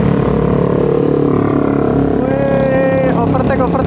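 A medium bus speeds up to overtake, its engine droning loud and close with a rising whine and a horn-like tonal blare near the end, while a voice talks over it.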